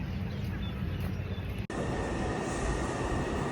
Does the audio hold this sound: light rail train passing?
yes